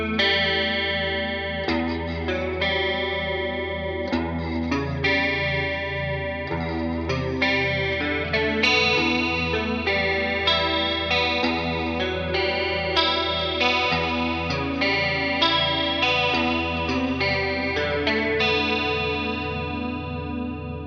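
A distorted electric guitar, a Gibson Les Paul fitted with a Floyd Rose, plays a sustained melodic riff with rhythmic chords, loud and alone with no talking.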